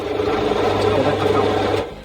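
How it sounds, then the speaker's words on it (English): A power drill whirs steadily at close range for about two seconds, its motor humming evenly before winding down at the end, drilling out the center hole of a pulley for a shaft bolt. "I can now drill out the hole in the middle so that I can fit the bolt into the shaft"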